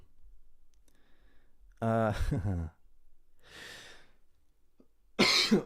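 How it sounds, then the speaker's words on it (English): A person with a cold coughs harshly nearby, a short raspy burst, then breathy exhales and another sharp cough in an otherwise quiet room. "Excuse my coughing. I have had a cold."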